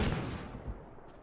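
A firearm shot in Mount & Blade: Fire and Sword, a single muffled boom at the start that decays into a rumbling tail, with a second softer thud shortly after.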